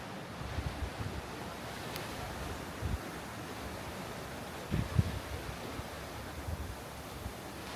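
Ocean waves seen from the deck of the Norwegian Bliss cruise ship at sea wash in a soft, continuous rush, with light wind buffeting the microphone and a few brief low thumps.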